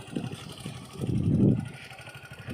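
A Suzuki Gixxer SF motorcycle running smoothly after its chain was sprayed, a steady low engine hum with a brief swell in the middle, close and with no talking.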